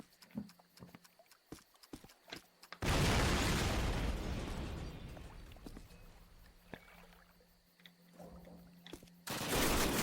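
Machine-gun fire in the 2003 Call of Duty game, on a level at the Eder dam. A sustained burst of rapid gunfire roars for several seconds, then stops and resumes, with quieter scattered game noises around it.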